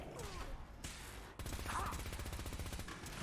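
Rapid automatic gunfire rattles in a Fallout 4 fight against a gunner, a dense steady burst of shots after a brief pause, moderately distant and continuous to the end.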